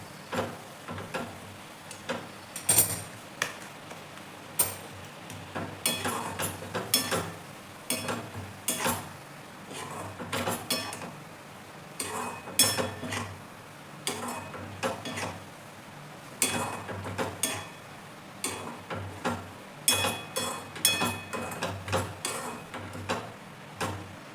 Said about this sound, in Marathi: जोपर्यंत आपलं घट्ट होत नाही मिश्रण व्यवस्थित तोपर्यंत आपल्याला व्यवस्थित मिक्स करत राहायचं